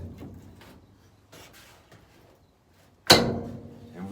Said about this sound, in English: put my body clamps in place, and that's just gonna get the door in its